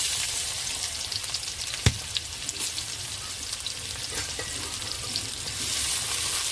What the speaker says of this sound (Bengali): একটু হালকা করে ভেজে নেব পেঁয়াজটা